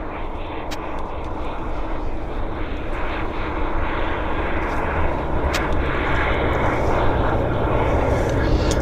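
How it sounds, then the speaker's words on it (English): A KLM airliner taxis toward a gate at Vancouver airport, its engines giving a steady, loud, continuous jet roar that holds evenly throughout, with no clear talk over it. "So KLM's going to actually maneuver themselves into one of the gates here."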